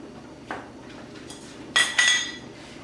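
Metal canning lids set onto jars of homemade papaya jelly, a soft tap then two sharp bright metallic clinks close together, near and fairly quiet with no talking.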